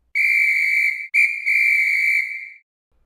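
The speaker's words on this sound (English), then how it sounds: "The sound of a whistle going off can be heard in the distance." A single shrill whistle blasts in two long, steady bursts with a brief break between them, loud and clear against silence, then fades out.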